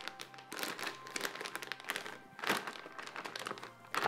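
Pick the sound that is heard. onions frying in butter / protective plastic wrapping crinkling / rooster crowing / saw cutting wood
protective plastic wrapping crinkling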